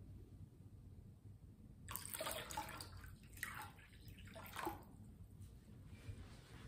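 Water is poured into a large flower bowl for a garden-style table arrangement, a soft splashing gush in two bursts after a quiet start, fading to a faint trickle, close but gentle.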